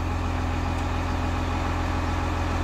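A tractor engine idles steadily in the rain on a farm, a constant low droning hum with a rhythmic mechanical pulse and no other sounds over it.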